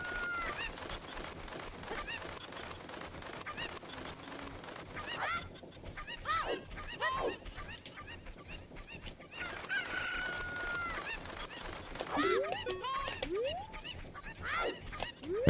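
Video game farmyard with chickens clucking and a rooster crowing, alongside honking goose-like calls, a busy overlapping flock heard at moderate distance throughout.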